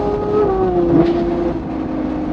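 A straight-piped Ferrari 812 GTS V12 downshifts from inside the cabin, a loud, steady engine drone with a brief pitch blip in the middle.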